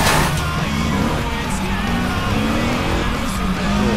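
A car in the Wheelman video game races continuously with a loud, sustained engine roar and tire noise throughout, with no distinct impact standing out.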